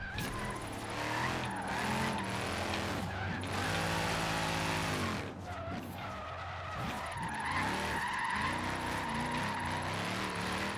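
Dodge Charger with over 1000 horsepower drifting in the Forza Horizon 3 racing game, its engine roaring continuously while tires squeal and skid through long slides, loud and close throughout with no talk.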